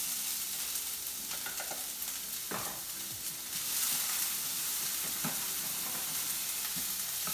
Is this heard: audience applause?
no